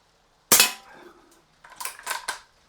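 A KJWorks M700 gas airsoft sniper rifle fires a sharp, loud shot, followed about a second later by a quick run of three or four clattering cracks. The shots sound close and clear against a quiet background.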